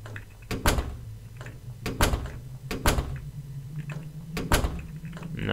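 A locked door rattling in The Crooked Man video game, several loud wooden thuds and shakes repeating in uneven bursts over a low steady hum.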